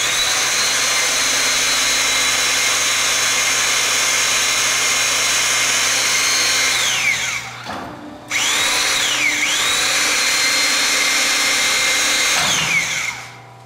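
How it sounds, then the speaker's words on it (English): A hydraulic pump on a Creative Metal Works scroll bender drones steadily and loudly while the die rotates, cutting out briefly midway, restarting, then winding down at the end. "the pump kicks on and the die continues to rotate and you just bend your part"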